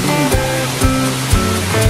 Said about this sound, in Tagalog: After 2 hours, ayan na ang Kaparkan Falls.